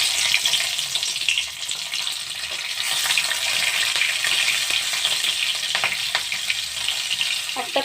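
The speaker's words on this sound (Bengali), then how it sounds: "এবার ওই তেলের মধ্যে সামান্য একটু কালো জিরে দিয়ে দিচ্ছি, কাঁচা লঙ্কা চিড়ে দিয়ে দিচ্ছি" Nigella seeds and slit green chillies sizzling in hot oil for a spicy fish and potato curry, giving a strong, continuous crackling hiss close up, with a few small pops and stirring sounds.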